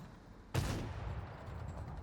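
A tank cannon firing in World of Tanks on console, one sudden loud blast followed by a long rumbling decay over quiet background noise.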